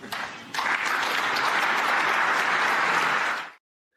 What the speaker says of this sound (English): So a lot of smiling faces in that crowd, a lot of clapping there.